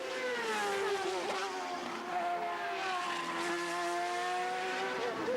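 Racing kart engine at full throttle on a dusty road circuit at Mid-Ohio, a loud, close, steady buzzing whine that dips and climbs again as it changes pitch, with no talking.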